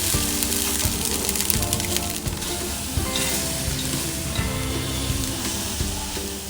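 Steady, loud sizzling and frying from a pot of chicken tikka biryani over low heat as rice goes in, with occasional scraping and stirring knocks and faint music underneath, no talking.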